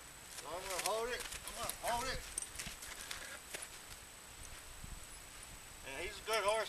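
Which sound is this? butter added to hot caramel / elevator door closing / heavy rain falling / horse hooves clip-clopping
horse hooves clip-clopping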